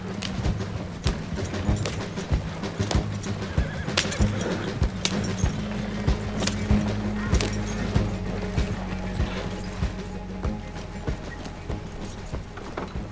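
Horses pulling a wagon in Red Dead Online clip-clop along steadily, with a whinny or neigh, rolling wooden wagon wheels and creaking rig underneath, a continuous close rumble.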